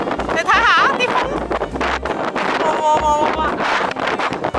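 Gusty wind buffets the microphone on the southern shore of Toronto's Centre Island, with low rumbling bursts rising and falling throughout while people talk and exclaim nearby.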